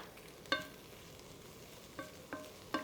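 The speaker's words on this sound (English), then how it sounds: "We're going to add in the dry shrimps. Fry out the fragrance." Dried shrimps frying in hot oil in a pan for a Cantonese sticky rice stir fry, a soft steady sizzle with a few sharp clicks of a utensil against the pan, quiet and close.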